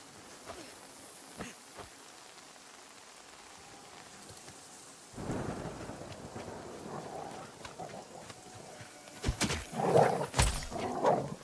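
Steady rain in a video game hisses throughout, growing heavier midway, with a few sharp cracks and rumbles near the end suggesting thunder.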